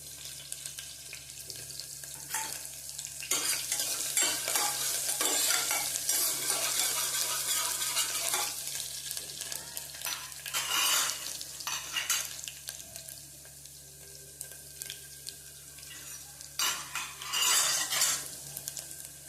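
Chillies and grated ginger sauté in hot oil for a moraiya (barnyard millet) and potato fasting khichdi, giving a steady close sizzle broken by repeated spoon scrapes and metallic clinks against the pan, with no talking.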